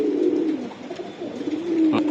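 A pigeon coos close by in soft, low, rolling calls, a few drawn-out throaty phrases with no talking over them.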